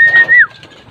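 Racing pigeons landing back at their loft after a training flight, a single short coo-like call close by with faint background murmur.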